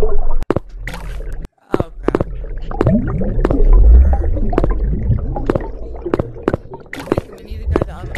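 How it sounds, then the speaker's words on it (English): Water gushes and sloshes through a flooding sewer in a VR horror game, gurgling and churning with scattered clicks and thumps, while excited voices talk over it. "Oh, oh yeah, it's flooding. It's flooding."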